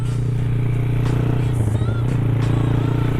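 A Kawasaki Ninja SS motorcycle engine idles steadily up close, a loud continuous low drone with irregular mechanical ticking and clatter from piston knock running through it.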